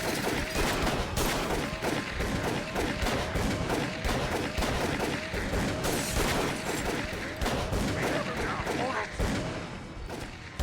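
Dense, continuous gunfire from the Call of Cthulhu: Dark Corners of the Earth game on PC, rapid shots and bursts overlapping loudly throughout, with voices shouting underneath.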